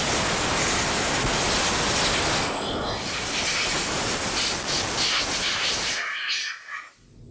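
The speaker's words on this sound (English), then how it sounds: "I'll pull them out of the cleaning solution and spray them off with some compressed air" Compressed air blasting off small edger carburetor parts just pulled from ultrasonic cleaning solution, a loud continuous hiss that runs steadily, eases slightly, and cuts off near the end.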